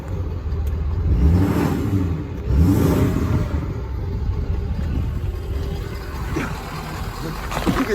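Lifted 2018 Ford F-250 truck with a large turbo, engine revving in two swelling rumbles followed by a steady low drone and turbo whir, fairly close.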